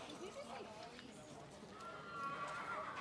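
A filly is walked at an outdoor sale or stable while people talk throughout. Soft hoof clip-clops and a brief whinny sit faintly beneath the voices.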